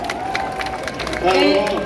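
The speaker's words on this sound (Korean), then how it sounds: "좋은 말씀 해주신 우리 김문수 씨에게 다시 한번 큰 박수를 부탁드립니다" A crowd at an outdoor election campaign rally in Gunpo claps and cheers for about two seconds. A loud burst of applause swells near the end over general hubbub.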